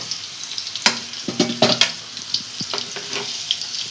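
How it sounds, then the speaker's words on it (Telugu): Amla (Indian gooseberries) fry in oil over a medium flame for pickle, giving a steady crackling sizzle with several sharp clinks and scrapes of a spoon against the pan, close and fairly loud, with no talking. "ఇది కొంచెం మీడియం ఫ్లేమ్లో పెట్టి ఇట్లా ఫ్రై చేసుకోవాలన్నమాట."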